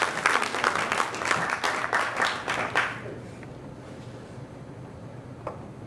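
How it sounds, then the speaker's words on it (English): Audience applause at a motivational event, loud dense clapping for the first three seconds, then quickly fading to a quiet room with only a faint stray clap near the end. "Everyone, please give a round of applause to Scott Dunham."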